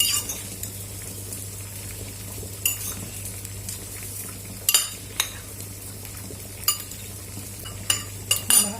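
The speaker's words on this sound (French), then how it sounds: "On remue." Food is stirred in a pan with a little olive oil, a utensil scraping and clinking against the pan in irregular taps over a faint low sizzle, heard close with no speech.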